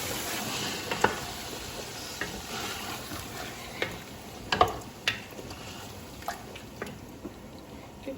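Two tins of tomato puree sizzle softly in a hot pan on a home stove while being stirred, the quiet frying hiss broken by scattered light scrapes and clicks of the spoon.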